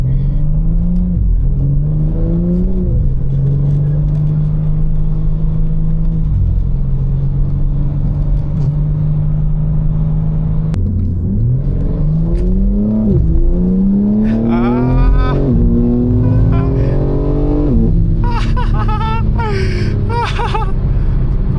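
BMW M4 Competition with a loud exhaust revving from inside the car, engine note rising and falling in repeated pulls and throttle blips, steady and close throughout.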